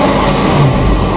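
A 2019 Range Rover SV Autobiography engine pulls hard under acceleration, a loud, steady, close-up mechanical roar with no voices over it.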